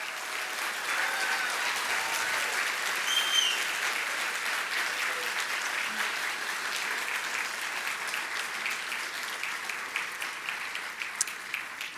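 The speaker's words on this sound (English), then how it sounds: "Let's give them another round of applause." A ceremony crowd gives sustained, even applause for a graduating physical therapy class at a hooding and pinning ceremony, the clapping thinning slightly toward the end.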